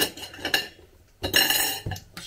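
Fried eggs are flipped in a frying pan while cooking dinner of curry rice, with sharp metallic scrapes and clinks of a utensil against the pan in several loud bursts, close up and without talk.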